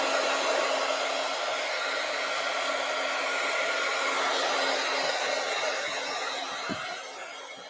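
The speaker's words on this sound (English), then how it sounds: "All right, I'm going to use my heat gun. So heat gun alert." A heat gun blows to dry paint, giving a constant, close, fan-like roar with a faint steady hum underneath that runs throughout and eases slightly toward the end, with no voices.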